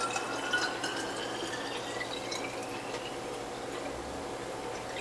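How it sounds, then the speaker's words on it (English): Water pours steadily into a bottle, a continuous close trickling and filling sound with rising tonal streaks as the level climbs, alone and without talk, beside a Norwalk and a Jack LaLanne centrifugal juicer. "Let's see how much water goes into one of these bottles."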